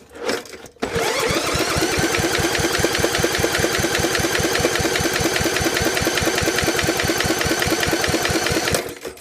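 A repaired small engine on an old Snapper mower is cranked over during a compression test, a fast, even chugging of rapid starter pulses holding steady for about eight seconds before stopping, close and loud with no talk.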